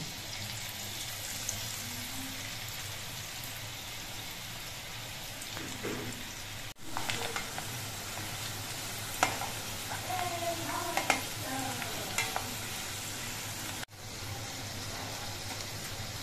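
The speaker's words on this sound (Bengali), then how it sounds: "মোচার খোলা দিয়ে আমি তেলের মধ্যে সব ভেজে নেব" Oil hisses and crackles continuously as banana flower peels fry over medium heat, with occasional stirring clatter and spatter, steady and close.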